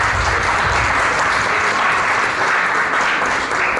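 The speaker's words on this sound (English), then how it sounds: "So I just want to give a huge round of applause." A crowd at a Kwanzaa celebration in Paterson applauds steadily, dense clapping that stays loud and even from start to finish with no voices standing out.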